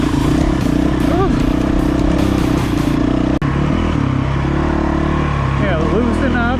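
A dirt bike climbs a steep trail in Skull Valley, its engine droning loud and close with rising revs, clattering over terrain and a sharp knock midway.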